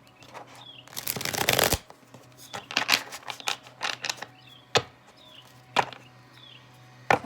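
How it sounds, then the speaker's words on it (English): A deck of tarot cards is shuffled close by, first in a long riffling burst, then in shorter rhythmic flicks and taps. Faint birdsong sounds in the background. "I don't know why I'm shuffling like this"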